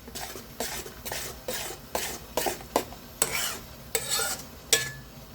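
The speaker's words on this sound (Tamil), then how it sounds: "போட்டு கிண்டி விட்டுக்குவோம் நல்லா" Salted tomato chutney is stirred in a pan, with about nine evenly spaced scraping strokes of a spoon over a low background hiss, close by.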